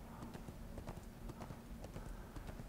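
Steady clip-clop of a horse's hooves at a walking pace in the video game ArcheAge, a regular rhythm of light knocks over a low ambient hum, no voices.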